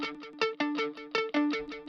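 Distorted lead guitar from a cover played through a delay effect, short picked notes smearing and repeating into one another with no gaps, loud and up front.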